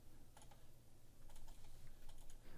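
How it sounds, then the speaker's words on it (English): Arrow keys on a computer keyboard are tapped in quick, light clicks, a few separate taps and short clusters over a steady background hiss, faint and close, with no talking. "so maybe I'll just use my keyboard arrow keys."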